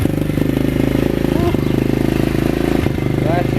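An SSR 125 pit bike engine idles with a rapid, even putter close by, a couple of brief clanks breaking through, while a voice talks over it.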